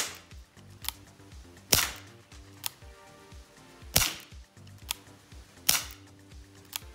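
An ASG Dan Wesson 8-inch airsoft revolver fires several sharp, loud, close snapping shots at irregular intervals, with quieter mechanical clicks of the cylinder between them and no talk.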